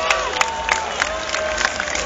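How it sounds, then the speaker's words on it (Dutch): Festival crowd at a main stage claps and cheers, a dense continuous roar with sharper whoops and claps poking out every few moments, fairly loud and sustained across the whole stretch. "Alsjeblieft een applaus voor jullie zelf."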